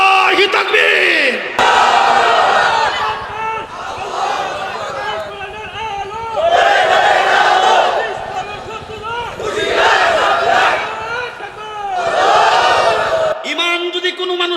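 A large crowd at a religious gathering roars the takbir chant in unison, loud and close, in repeated swelling bursts separated by short pauses.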